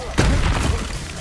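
A Confringo spell in Hogwarts Legacy bursts as one sudden booming blast, followed by a short rumbling decay.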